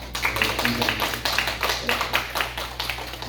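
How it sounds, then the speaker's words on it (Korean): A church congregation applauds, a steady patter of many hands clapping in a reverberant hall, moderately loud and continuous, with a low hum underneath. "서로 위해서 격려 박수 감사합니다"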